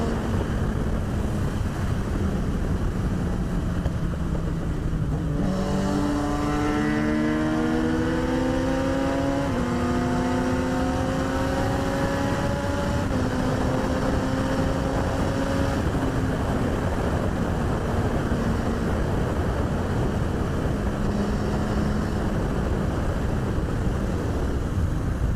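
Yamaha FZ1 motorcycle pulling hard on an open road, engine note climbing through several rising gear sweeps before settling, heard close over steady wind rush.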